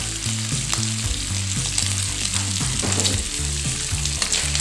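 Pork with garlic and fresh chili stir-fries in a hot pan with a dense, continuous sizzle and crackle, accompanied by the rhythmic scrape of stirring, close up with no talking.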